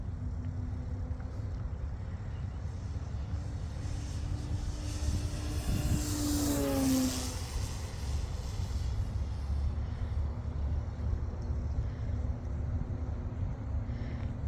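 A Hangar9 F4U-1D Corsair 50-size RC model airplane running on 4 cells makes a pass overhead, its electric whine rising and then sliding down in pitch as it goes by, against steady outdoor wind noise.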